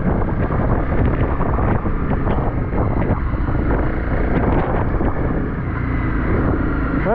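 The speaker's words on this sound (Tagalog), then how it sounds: "Grabe, lakas na hangin." Strong wind buffets the microphone on a mountain summit near Baguio, a loud, continuous roaring rush with gusty swells throughout and no voices.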